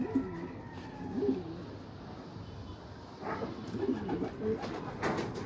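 Racing pigeons cooing in soft, repeated low rolling calls, a few birds close by, with some background noise throughout.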